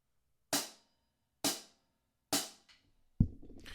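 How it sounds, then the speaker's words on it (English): Hi-hat struck with the right hand on eighth notes in a beginner drum pattern, three crisp close metallic chicks evenly spaced, followed by a fainter, busier rattle at the end. "we're going to play eighth notes on the hi-hat"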